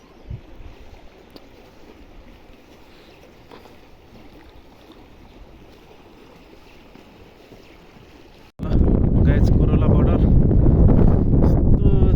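Wind in Upper Mustang, Nepal, buffets the microphone with a steady low rumble, then abruptly surges much louder and rougher near the end.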